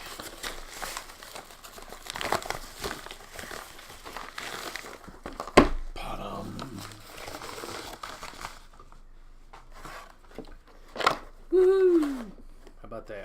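An Amazon package holding an RGB lighting kit is peeled open, with crinkling plastic and paper, a sharp tearing snap midway and more rustling after, close and fairly quiet, with a voice briefly heard.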